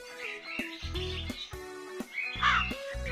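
Crows caw in a children's cartoon, with harsh repeated bird calls layered over a busy, tonal music score.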